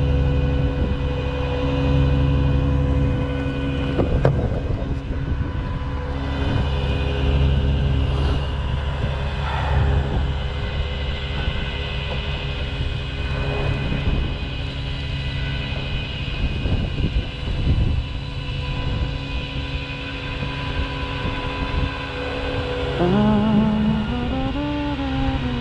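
A 2021 Lincoln Navigator rolls slowly in neutral with a steady low engine drone and a constant tonal hum, joined near the end by a rising whine.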